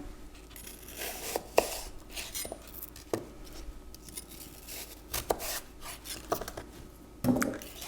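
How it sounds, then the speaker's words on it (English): A knife slicing around an apple core on a cutting board, with quiet scraping cuts and several short sharp knocks of the blade, close and unhurried, with no talking. "I mark where that core ends, and then I just cut around it with a flat side down"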